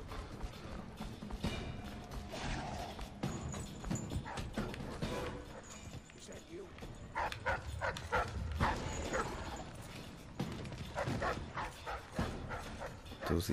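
Dogs barking repeatedly in the video game Dishonored, sharp barks and yips over a busy game soundscape with footstep-like clatter.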